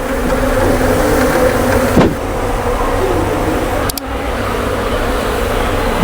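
A dense, steady buzz of many Asian honeybees (Apis cerana) nesting inside a school science lab fills the air up close, broken only by a couple of brief clicks.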